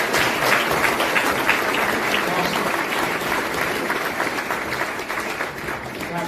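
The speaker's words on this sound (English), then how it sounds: "Give him a big round of applause." Sustained, loud applause from a conference audience at a leadership event, thick continuous clapping with some crowd voices mixed in, holding steady for several seconds.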